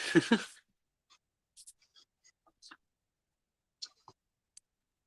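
Keyboard typing during a livestream: a short voice at the start, then sparse, faint, irregular clicks and taps of keys scattered across a quiet background.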